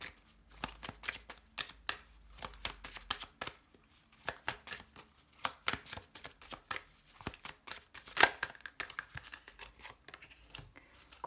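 Tarot cards are shuffled by hand in quick bursts of crisp, flicking riffles and soft taps, close and fairly quiet, with brief pauses between the runs.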